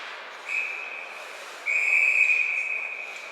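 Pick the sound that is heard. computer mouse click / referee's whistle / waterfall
referee's whistle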